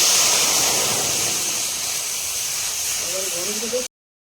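Water poured into a hot kadai wok, used while making a sweet-sour jujube pickle, gives a strong close hiss that slowly fades, with a brief voice near the end before cutting off.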